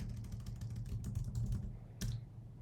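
Fingers typing a git commit message on a computer keyboard, a close run of quick, light key clicks followed by a pause and one firmer keystroke, with no talking.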